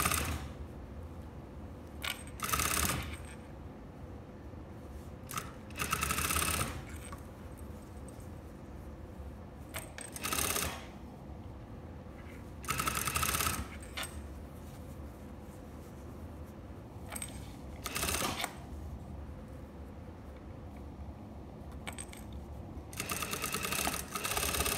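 A sewing machine back stitches the side seam of a lined dress, its steady mechanical whirr running throughout, broken by several louder bursts of quick stitching at irregular intervals.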